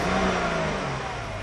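A manual-transmission car's engine revs hard as the accelerator is floored after a downshift into third gear, a steady, loud mid-pitched roar that climbs briefly and then holds.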